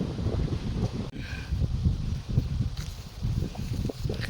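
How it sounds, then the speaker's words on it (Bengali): Strong gusting wind buffets the microphone on a stormy coastal island path near Mark Bay, a steady roaring rush with surges and lulls, heard up close with no speech. "ওয়েদারটা এতটা স্টর্মি আর এত হাওয়া দিচ্ছে"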